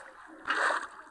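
A Minecraft bucket scooping up water: a single brief watery swoosh lasting about a third of a second, moderately loud against faint background noise.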